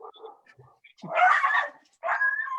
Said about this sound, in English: And that's the dog.